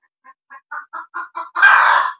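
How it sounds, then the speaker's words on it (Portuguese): A hen clucks close by in a series of short, rising clucks that speed up and break into a loud, drawn-out cackle at the end. "Agitou até a galinha, tá vendo?"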